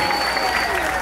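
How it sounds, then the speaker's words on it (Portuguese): A Mass congregation at the Nossa Senhora Aparecida feast in Montese applauds Dom Rosalvo, with steady, dense clapping filling the brief moment alongside a sustained tone and voices. "Uma salva de palmas para Dom Rosalvo."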